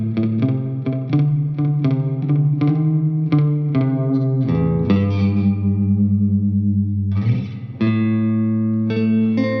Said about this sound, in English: starting with this springy reverb setting